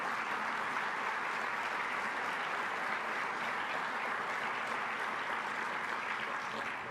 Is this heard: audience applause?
yes